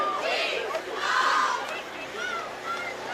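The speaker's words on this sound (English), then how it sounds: "You see Everett's got a nice crowd here tonight" A nighttime high school football crowd of Everett fans gathered along the fence roars and cheers in swelling waves, a broad wash of massed voices at some distance.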